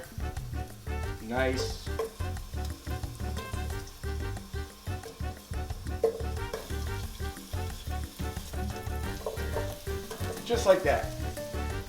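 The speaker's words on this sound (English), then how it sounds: "we're going to saute onions" Broken-up onions sauté in grapeseed oil in a pan for ropa vieja, a soft sizzle under a voice talking throughout, with occasional clatter as they are tossed in and moved around.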